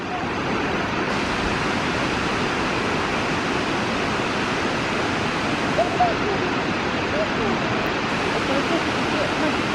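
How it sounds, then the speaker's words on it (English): Middle Falls on the McCloud River roars as a dense, steady wash of falling water, loud and continuous throughout with no breaks. "This Middle Falls is really nice."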